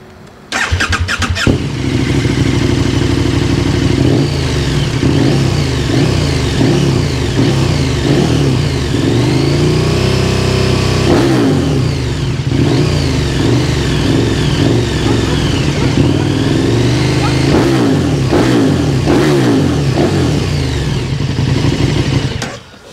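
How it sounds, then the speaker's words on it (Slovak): A 2021 KTM 1290 Super Duke R fitted with a Remus exhaust revs hard and close, its throttle blips rising and falling in long steady bursts with no voices over it. "ako sa zmení zvuková kulisa týchto výnimočných motocyklov po namontovaní takýchto výnimočných výfukov"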